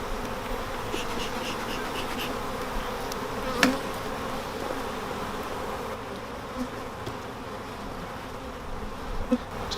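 Honey bees hum in a steady, dense drone as colony frames from double nucleus colonies are moved into a final hive, with a few brief louder knocks and buzzes close by.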